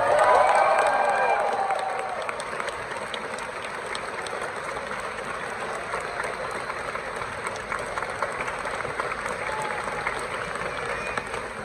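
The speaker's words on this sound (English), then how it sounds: "Now I'd like you to make some noise for our dear friend that has been on the last few tours with us." Concert crowd at a show applauding and cheering, loudest in the first two seconds and then settling into sustained clapping and scattered shouts.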